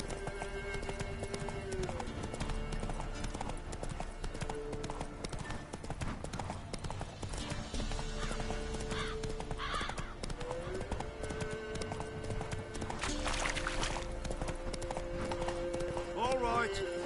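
Hooves of the horse Roach clip-clop steadily at a run in a video game, with occasional whinnies and game music or ambience running underneath and voices talking over much of it.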